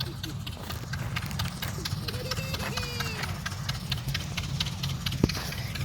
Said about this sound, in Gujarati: ભાઈ ટ્રેક્ટર જો આવે